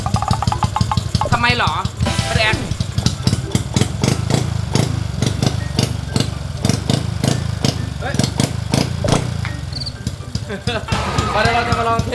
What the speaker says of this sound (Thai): นี่สตาร์ทปั๊บขึ้นปกติท่านเลย